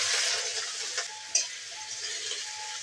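Garlic and onion fry in hot oil for peas paratha filling, a soft steady sizzle close by, with a few stirring scrapes and one sharp utensil tap.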